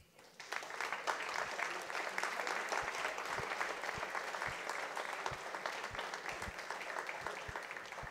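Steady, dense clapping from a school awards ceremony audience honouring the Principal's Award recipient, rising quickly and holding an even level throughout, with no talking.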